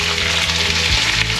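Golden garlic and prawn tails frying in a hot pan: a steady, loud sizzle close by, with a brief thump and a stronger hiss near the end as more food goes in, and no talking.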